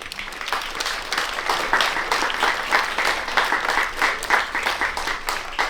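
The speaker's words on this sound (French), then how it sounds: "vous pouvez vous applaudir." A crowd applauds after a closing speech at the Relay for Life charity event in Brumath, with many hands clapping in a lively, slightly pulsing rhythm that carries on steadily without any voices.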